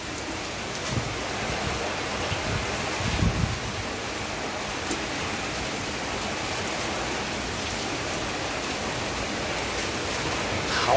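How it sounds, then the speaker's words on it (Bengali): Steady broadband roar of strong, cold gusting wind during Cyclone Remal in a rural area, continuous and fairly loud throughout with brief surges, no talking. "যারা গ্রাম অঞ্চলে আছেন এই সময় বাইরে বেরোবেন না, কারণ প্রচুর হাওয়া বইছে"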